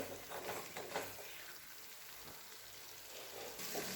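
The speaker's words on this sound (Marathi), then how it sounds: "त्याचं छान असं तेल सुटलेलं आहे एकदम परतून घेणं गरजेचं असतं" Sesame and coconut masala sautéing in hot oil for a vegetable curry, a steady close sizzle and crackle running throughout with a few louder bursts, no voices.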